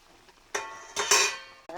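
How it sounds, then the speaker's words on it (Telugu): Semolina poured into boiling salted water in a pot and stirred for dry upma, heard as a few short, close bursts of scraping and rustling separated by brief pauses. "ఇప్పుడు ఈ రవ్వ ఇందులో వేసేసుకుందాం."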